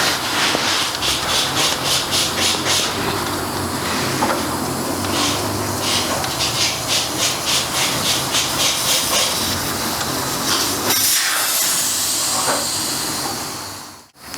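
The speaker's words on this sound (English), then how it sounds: "Just take the valve and let the pressure out." Air hisses steadily out of an opened motorcycle tyre valve, a loud close rushing stream with a faint pulsing texture that lasts about fourteen seconds before dying away.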